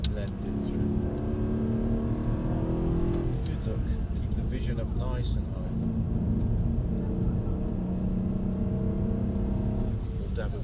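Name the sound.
car driving on Brooklands track, braking through a bend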